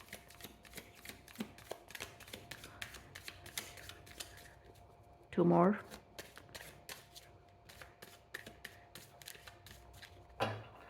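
A series of quick, crisp card riffles followed by rapid taps of cards being squared, with a voice speaking briefly and a louder burst midway.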